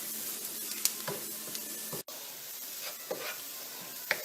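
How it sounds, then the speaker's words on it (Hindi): Onions fry in a pan and are stirred now and then: a steady close sizzle with occasional scraping strokes and small clicks of the spoon, no voices. "5 मिनट्स हो गए ऑनियन को फ्राई करते हुए।"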